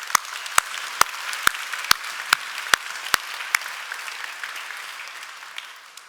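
A church congregation at a Sunday worship service claps together in rhythm, about nine sharp, evenly spaced claps in unison. The claps then loosen into scattered applause that fades away.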